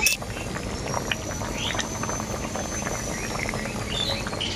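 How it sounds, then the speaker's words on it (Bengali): A vegetable gravy with drumsticks, pumpkin and carrot bubbles as it boils in a pot, a steady close burbling with soft pops and no clear talk. "এই সজনে ডাঁটাগুলো দেওয়ার পরে আবারও ঝোলটাকে আমি খুব ভালো করে ফুটিয়ে নেব।"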